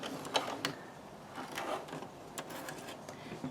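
A sewing machine stitches fabric for a scrunchie, a fast continuous mechanical whir and patter with small ticking clicks, close but fairly quiet.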